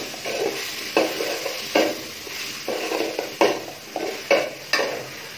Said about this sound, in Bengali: মশলা দিয়ে ভালো করে একটু কষিয়ে নিই